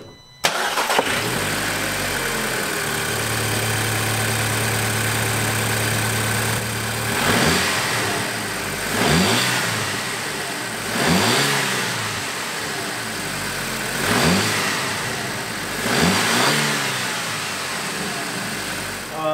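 A Volkswagen MK5 GTI with stock intake starts up and idles, then revs sharply four times in well-spaced blips that rise and fall back to a steady idle, close and loud.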